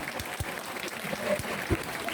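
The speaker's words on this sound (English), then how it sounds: "Applause." An audience at a Hong Kong International Film Festival screening breaks into brief applause, a short burst of clapping mixed with faint voices.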